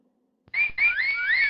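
A person whistling: after a brief silence and a soft click, a clear, close whistled tune begins, sliding up and down in pitch over a short continuous phrase, with no talk.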